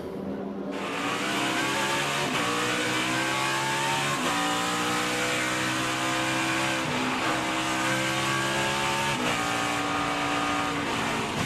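Onboard a NASCAR Cup Series race car at Circuit of the Americas in 2021, the loud engine roars steadily, its pitch climbing through gears with brief dips at each shift, continuous and close throughout.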